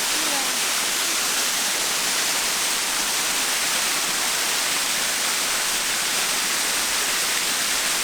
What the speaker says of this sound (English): There is something really quite sort of special about waterfalls